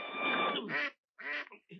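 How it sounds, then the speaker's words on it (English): Duck quacking in a Western film: a drawn-out, nasal, reedy call followed by two shorter clipped quacks after a brief pause, close by and fairly quiet, with nothing else heard. "Have you seen my duck?"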